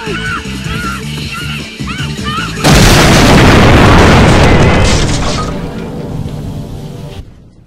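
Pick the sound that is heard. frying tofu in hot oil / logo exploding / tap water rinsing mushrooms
logo exploding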